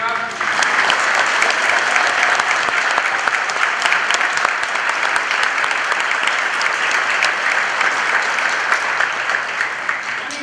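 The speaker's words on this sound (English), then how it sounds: "big round of applause for the band and the choir did an outstanding job" Sustained applause from an audience at a college Veterans Day ceremony, dense and steady clapping for a band and choir that holds at a loud, even level throughout.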